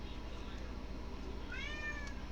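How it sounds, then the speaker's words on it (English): A single cat meow, drawn out and rising then falling, rises over a steady low hum and faint background murmur. "Someone always has to meow."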